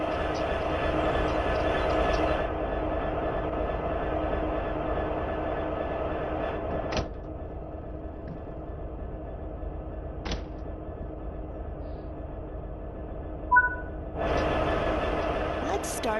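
Locomotive number 1996 idling and running in the train simulator Train Sim World 3, a steady low mechanical rumble with a few sharp clicks and a louder stretch at the start and end.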